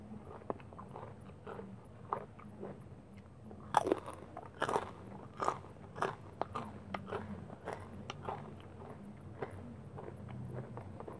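Pork rinds crunched close up, with repeated crisp bites and chewing in an irregular rhythm and a few louder snaps, and no talk.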